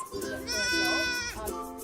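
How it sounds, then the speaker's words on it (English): Baby goat at a stable giving one long, clear bleat close by, with soft sounds around it. "Baby goats tend to bring out smiles from everyone around them"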